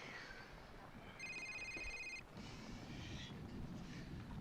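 A telephone rings once in a short electronic trill, faint beneath a steady background rumble in a room.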